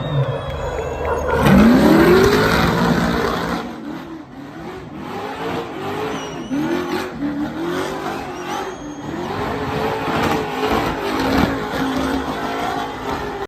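A car doing a tight edging donut, engine revving hard with a rising whine and tire squeal, then sustained screeching skids and engine drone circling on and on, loud and close.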